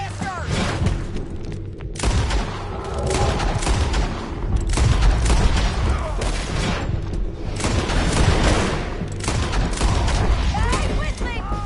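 Sustained bursts of gunfire and booming shots in the Red Dead Redemption 2 video game, loud and dense for the whole stretch, with voices shouting over the battle.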